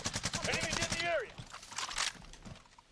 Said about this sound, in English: Gunfire low right in front of me.